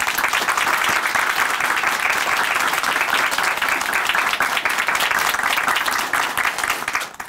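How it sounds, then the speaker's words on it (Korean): A studio audience at a Christian church television show claps steadily for a female guest, a dense, even wash of many hands that holds for several seconds before starting to thin out at the end. "다시 한번 박수 보내드릴게요"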